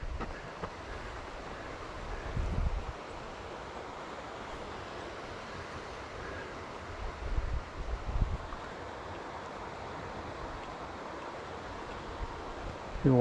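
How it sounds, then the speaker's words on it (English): A waterfall beside a boulder-strewn trail and avalanche chute in the Sawtooth Wilderness, heard as a steady broadband rush of falling water with low wind gusts buffeting the microphone now and then. "Nice waterfall there."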